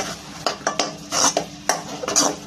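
Metal lid and pot clatter over a pot of mutton in masala with ginger-garlic paste, several close clinks and scrapes in quick succession, ending with the lid settling in place.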